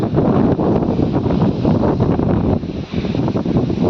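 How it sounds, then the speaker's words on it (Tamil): Strong wind roaring steadily against the microphone on a rugged hill, a loud broadband rush with brief dips, no voices. "காற்றடிக்க சவுண்டு பாருங்கள் அப்படி சவுண்டு பயங்கரமாக இருக்குது"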